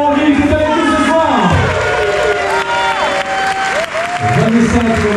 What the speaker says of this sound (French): Applaudissements pour Vanessa Morville qui est avec nous ce s